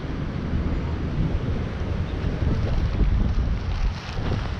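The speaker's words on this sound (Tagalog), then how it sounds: "Dito ang hangin eh." Steady wind rushes across the microphone outdoors near a city fountain downtown, a continuous buffeting roar with low rumbling gusts and no voices.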